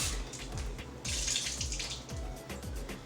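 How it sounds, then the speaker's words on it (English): Tap water runs over hearts of palm being rinsed in a kitchen sink, a steady close splashing hiss that brightens partway through as the flow strikes the contents, with no talk. "I'm going to rinse them out again."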